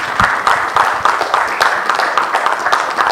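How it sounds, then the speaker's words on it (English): Audience applause for Mighty Terra at a launch event, a moderately loud, uneven patter of clapping hands with distinct individual claps standing out through the stretch. "Some applause for Mighty Terra"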